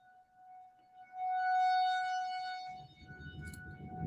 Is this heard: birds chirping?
no